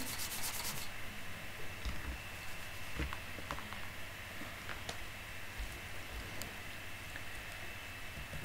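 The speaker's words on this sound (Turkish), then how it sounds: "İlk önce bunu sandığı kır." Repeated scraping, rubbing hits sound as a wooden chest is broken in the Minecraft video game, a dense, steady grinding texture with small knocks scattered throughout and no talk.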